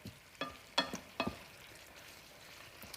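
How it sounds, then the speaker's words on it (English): Tomatoes are stirred into tender cauliflower heating in a pan, giving a few quick scraping, sizzling strokes close by, then a soft simmering hiss that fades. "I'm gonna stir that in and just heat those tomatoes through because they're already done."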